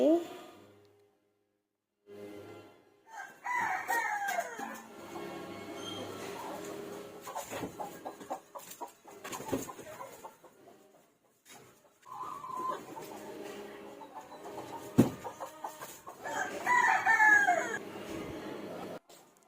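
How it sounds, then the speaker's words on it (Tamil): Chickens cluck busily nearby and a rooster crows, while a person talks on and off over the birds. "கோழி எல்லாத்தையும் ஒன்று ஒன்றா வந்து திறந்து விட்டாச்சு."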